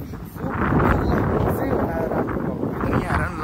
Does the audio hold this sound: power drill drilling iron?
no